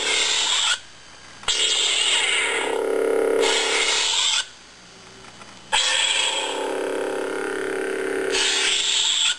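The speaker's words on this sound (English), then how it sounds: "So you get a different sound, activation sound, depending on the orientation of the saber." Two long lightsaber ignitions, each a sharp bright surge into a sustained buzzing hum, separated by short quiet gaps.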